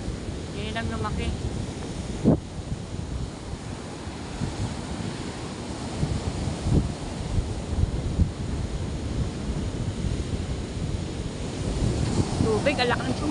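Heavy storm surf from a typhoon crashes and churns continuously, mixed with gusty wind buffeting the microphone; faint voices surface briefly near the start and end.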